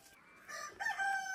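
A hen clucks in the mountains after laying an egg, giving a few faint, short, rising calls that come in quick bursts against a quiet rural background.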